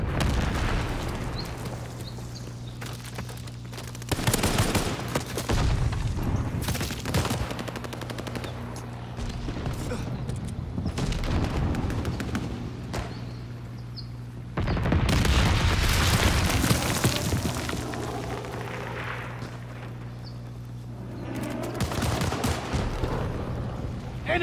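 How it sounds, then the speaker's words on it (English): Bomb blasts and rattling gunfire in the video game Call of Duty: Vanguard: continuous automatic fire with heavy booming explosions erupting around four and fifteen seconds, loud and chaotic throughout. "Incoming bomb! Clear out!"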